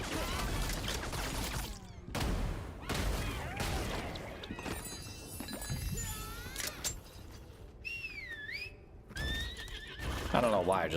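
A video game horse whinnies as it is mounted, a rising and falling neigh heard amid hoof clatter, impacts and other game effects, with a voice talking over parts of it.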